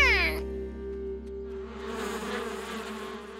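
Cartoon bees buzz around a honeycomb in a steady, droning hum that runs the whole time, with a brief tonal swoop at the start and a noisier, busier texture joining in after the first moment.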